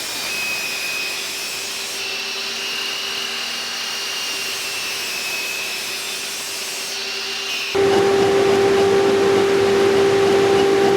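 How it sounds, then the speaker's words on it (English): A miter saw makes repeated passes through wood to cut a trench for a joint; a steady, loud whine holds for several seconds, then jumps louder and harsher toward the end, with no talking. "I cut the whole trench with repeated passes on the miter saw"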